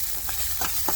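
Garlic, onion, coriander and green pepper going into hot oil in a home kitchen, giving a steady close sizzle with a few brief stirring scrapes and crackles.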